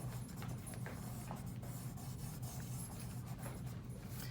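Charcoal is blended on paper with soft, continuous rubbing strokes, a faint close brushing texture over a steady low hum.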